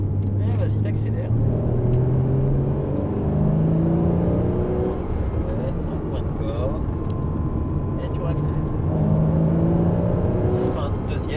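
Porsche Cayman S on a race circuit, engine droning loud and steady with rising harmonic sweeps as it accelerates, an instructor's voice speaking over the cabin noise throughout.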